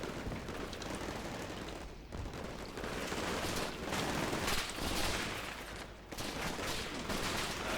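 Gunfire in the video game Combat Mission Shock Force 2: dense, continuous rattling volleys with distant booms layered together, a sustained fusillade that briefly dips twice before resuming at full intensity.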